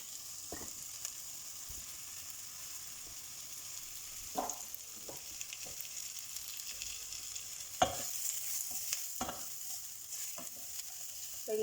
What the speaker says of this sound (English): So you let them sizzle like this